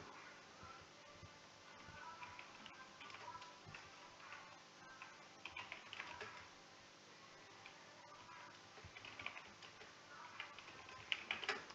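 Keys tapped on a computer keyboard while writing text into a Linux editor: faint, irregular light clicks scattered through a quiet background, with no one speaking.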